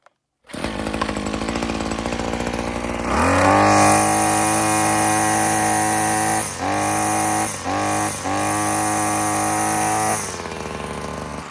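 A cheap Amazon string trimmer engine restarts and runs loud and close, settling into a steady buzzing idle with several brief throttle dips and blips before easing off near the end.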